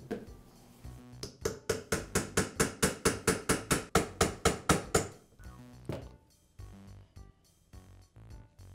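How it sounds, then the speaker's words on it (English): Rapid series of about fifteen sharp metal taps from a punch driving a motor armature out of the gearbox bearing of a Makita polisher, evenly spaced and close, followed by a few scattered knocks and handling clatter. "I'll place a punch on it and tap the armature away from the bearing."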